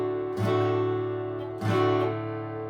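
Two strummed guitar chords ring out about a second apart, each sustaining before the next strum, close and clear.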